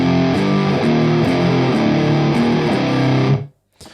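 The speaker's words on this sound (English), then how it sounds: "So the room you can hear in stereo is very much a short, early reflections type of reverb" An electric guitar played through the Two Notes Captor X stereo room reverb rings out with loud, distorted, sustained chords shifting in a steady rhythm. A short early-reflection ambience trails them, then everything cuts off abruptly into silence.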